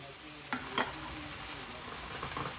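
Red curry paste frying in coconut milk in a pan, a quiet steady sizzle with a couple of sharp stirring scrapes near the start.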